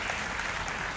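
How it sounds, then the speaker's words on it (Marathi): An audience applauds during a Buddhist dhamma talk, with dense, steady clapping that holds at an even level from start to finish. "एकदा खरं त्यांच्यासाठी टाळ्या वाजवा."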